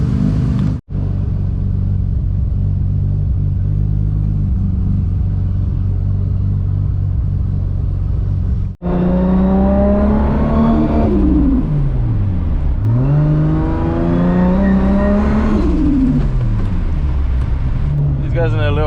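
A 1000HP+ Toyota MKIV Supra on the road, its engine a loud, close, steady low drone that rises and falls through several revving gear pulls while driving.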